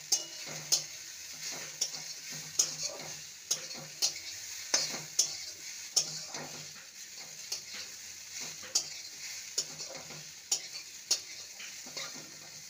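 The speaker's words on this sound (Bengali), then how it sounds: "ভালো করে নেড়ে নেব।" Radish greens and broken red lentil fritters are stir-fried in a pan, a spatula scraping and clacking roughly once a second over a soft, steady sizzle, close and clear with no talking.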